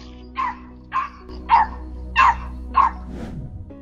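A small dog barks repeatedly at a coyote in a residential street, giving five sharp, evenly spaced yaps that sound close and loud over a low steady background hum.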